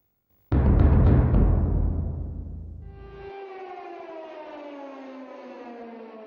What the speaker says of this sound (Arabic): صفارات الإنذار تدوي في جميع أنحاء إسرائيل منذرة السكان بالتوجه إلى الملاجئ